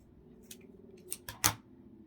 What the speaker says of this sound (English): Grab my scissors. Just gonna cut right here.